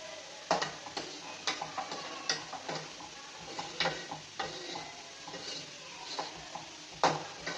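Sorakaya halwa of bottle gourd bubbles in a pot on a stove, giving soft irregular pops and splutters over a quiet low hiss.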